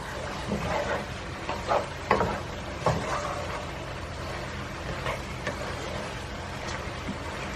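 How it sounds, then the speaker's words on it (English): Chicken and vegetable pulao is stirred in a cooking pot, giving a low sizzle with repeated scraping, clanking strokes of the spoon, spaced irregularly and close by. "Stir it very well and let it cook for another 5 to 7 minutes."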